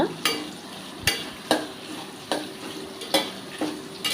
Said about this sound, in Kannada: ಚೆನ್ನಾಗಿ ಫ್ರೈ ಮಾಡ್ಕೊಳ್ಬೇಕು